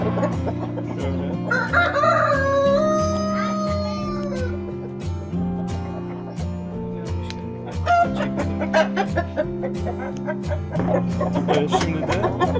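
Brahma chickens clucking with a rooster crowing, over a steady rhythmic backing of music; the birdcalls rise in bursts, fairly close and clear.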